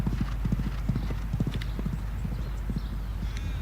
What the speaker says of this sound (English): Your horse?